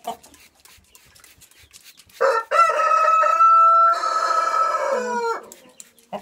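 A Cochin bantam rooster crows up close, a loud drawn-out call lasting about three seconds after some quiet background rustling.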